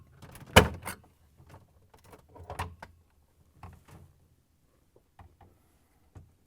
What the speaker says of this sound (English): With the flat blade screwdriver, push the tabs and open the control panel.